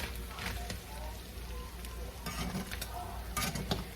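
Homemade teriyaki sauce stirred in a pan just taken off the burner, a steady soft scraping and faint residual sizzle with a few brighter clinks near the end, close and continuous.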